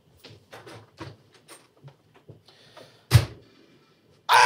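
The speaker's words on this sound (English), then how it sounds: "Who's a banging on our door?" Knocks and bangs on a door in a fantasy game, a scattered series of soft thuds followed by one sharp slam and a loud burst at the end.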